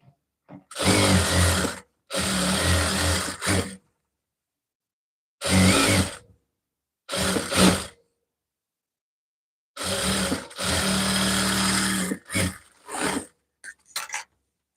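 A sewing machine stitching a blouse runs in several short bursts of steady mechanical whirring, each lasting one to two seconds and separated by silent pauses, close up with no talking.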